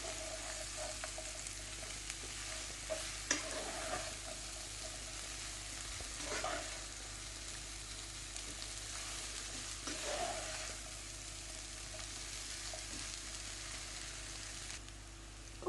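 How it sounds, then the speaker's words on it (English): A pan of samosa potato masala filling is gently stirred while it sizzles steadily, with a few soft scrapes and clacks of the spoon against the pan rising now and then over the continuous frying hiss. "Just gently stir this in."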